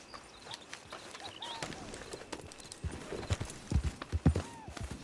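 Horse hooves clip-clop in the online mode of the video game Red Dead Redemption 2. The uneven thuds start light and grow heavier and closer toward the end, with no talk over them.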